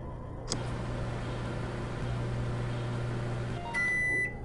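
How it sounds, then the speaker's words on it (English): A microwave oven hums steadily in the Job Simulator video game, switching on with a click after about half a second, then droning on in a low, even tone before a short electronic beep near the end. "Close the door and let me get a shot of the microwave running."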